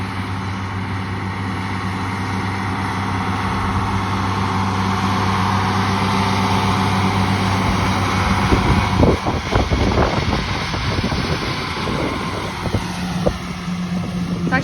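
A Vermeer swather hitched to a tractor cuts first-cutting alfalfa, giving a steady, loud engine drone and mechanical hum throughout, with sharper clattering bursts near the end.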